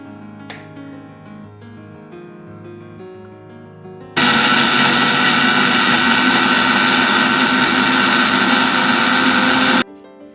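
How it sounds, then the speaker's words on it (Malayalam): A small mixer grinder jar grinds chutney with salt in a home kitchen, a loud steady motor whine starting abruptly and running for about six seconds before cutting off, after quieter background sounds. "നമ്മൾ ചെറിയ മിക്സർ ജാറിലിട്ട് അരച്ചെടുക്കുക കേട്ടോ"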